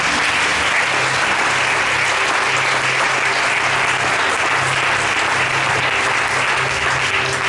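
A church congregation applauds steadily and loudly through the whole stretch, a dense wash of many hands clapping together without pause.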